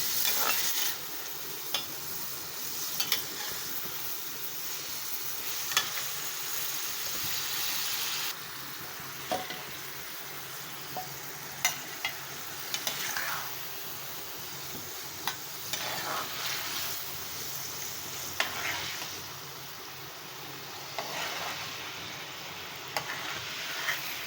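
Mushrooms fry in oil for a curry, a steady close sizzle running throughout with light scraping and clacking as they are stirred now and then.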